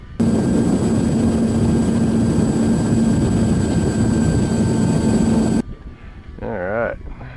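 An E-Flite Apprentice 15e electric model airplane's high-pitched motor whines steadily overhead for several seconds, then cuts off abruptly, leaving a brief quiet moment and a faint wavering tone.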